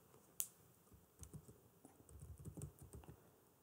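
Typing on a computer keyboard: quiet, irregular clusters of key taps in short bursts with brief pauses, heard close but faint against a soft room background and no voices.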